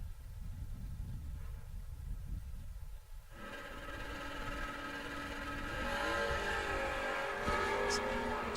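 Drag racing cars, including a Camaro, launching down the strip at a no-box bracket race; a low engine rumble swells into a loud, sustained roar that builds toward the end, with an announcer's voice under it.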